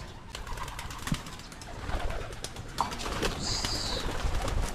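Pigeons cooing softly at a loft during feeding, with brief chirps and occasional rustles and wingbeats among the flock over a busy outdoor background, moderately close.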